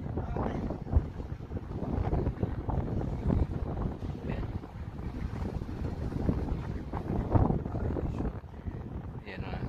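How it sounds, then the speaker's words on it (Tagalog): Steady, strong wind buffets the microphone with a constant low roar at a fishing port in Killybegs, County Donegal, Ireland, and a voice speaks intermittently beneath the gusts. "Lakas yung hangin mga kasay"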